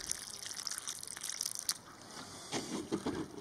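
Water poured onto dry earth at a tarantula burrow in natural habitat, a faint close trickle and soft splashing that soaks in quickly, alone with no voices.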